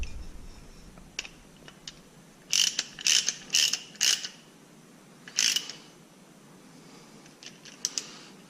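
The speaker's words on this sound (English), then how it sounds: "so just tighten it by hand with the ratchet" A ratchet tightens a bracket screw by hand on a 2005 C6 Corvette catch can setup, with a few sparse clicks followed by a cluster of five quick, crisp ratcheting bursts and a couple more faint clicks, all close and fairly quiet.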